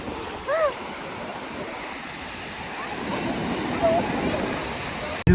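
Athirapally waterfall in Kerala rushing at night, a steady broadband roar of falling water running throughout, with a few brief faint chirps or calls rising above it.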